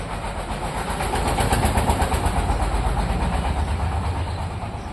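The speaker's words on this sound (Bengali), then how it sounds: "আমার ভটভটির আওয়াজটা শুনলেই শরীর চলে যায়" A bhatbhati, a small locally built motor vehicle, with its engine running in a loud, steady, rumbling chug close by, with no voices over it.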